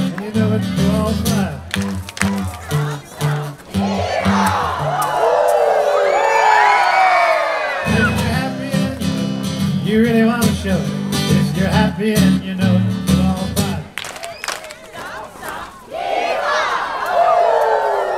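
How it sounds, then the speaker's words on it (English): A crowd at Disney World shouts and screams together in a big roller coaster scream, rising in long collective waves between rhythmic clapping and music, loud and close. "we're going to do the big roller coaster scream"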